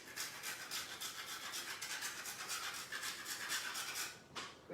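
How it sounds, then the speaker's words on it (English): Fresh nutmeg grated over a cocktail, a soft continuous scratchy rasping of quick strokes, close but quiet, running almost the whole time. "Now I'm going to just take fresh nutmeg and a grater"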